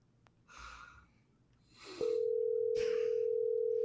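Phone call ringing out before going to voicemail: a couple of breaths and rustles, then a steady continuous tone that begins about halfway through and holds loud and unbroken to the end.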